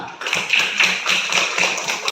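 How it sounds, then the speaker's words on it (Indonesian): Hands clapping in a classroom, a steady burst of applause from a group of students lasting about two seconds, fairly close and with no talking over it. "tepuk tangan dulu"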